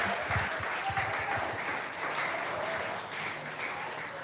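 Church congregation applauding for Christ during a Portuguese-language sermon, a steady dense wash of clapping lasting throughout.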